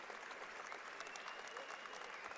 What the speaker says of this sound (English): A standing ovation from the crowd here in Cedar